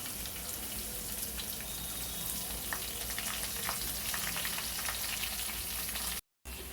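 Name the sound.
onions frying with dry prawns in a pan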